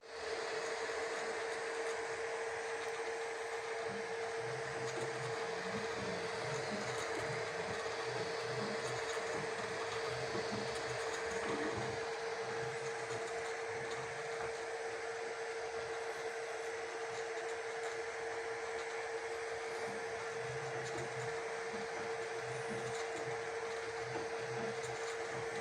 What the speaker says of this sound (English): you will see how printing works with Flsun Super Racer 3D printer